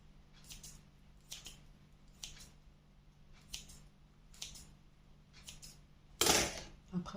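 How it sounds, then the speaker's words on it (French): A knife cuts salmon for a penne pasta dish in a home kitchen, giving a few soft, scattered cutting sounds spaced apart and faint against a quiet background, then a louder clatter near the end. "On va prendre un peu de saumon. Voilà, on le coupe comme ça."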